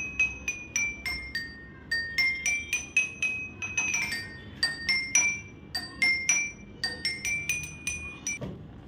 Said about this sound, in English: This is Jaltarang.